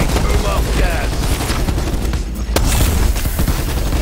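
A minigun in Black Ops 4 zombies mode roars in a continuous, loud, dense stream of rapid fire, with zombie groans and other game effects mixed in throughout.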